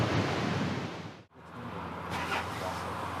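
Strong wind gusting across Cook Strait in New Zealand, a loud, roaring rush of buffeting noise with a brief drop in the middle before it surges back.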